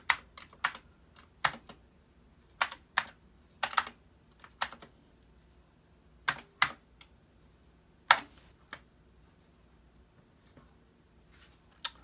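Keys clack on a Commodore 64 keyboard in scattered bursts of a few quick presses, close and crisp, with pauses of near silence between them.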